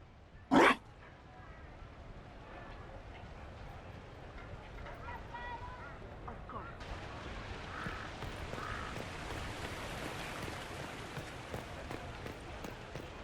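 A dog in the video game Dragon Age: Inquisition gives a single sharp, loud bark near the start, followed by quieter whimpering and background ambience under ongoing speech.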